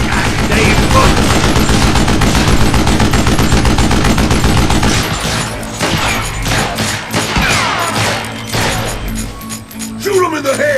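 Rapid gunfire bursts from the Call of Juarez Gunslinger video game, dense and loud in the first half, then scattered shots and impacts, with a shouting voice over the action.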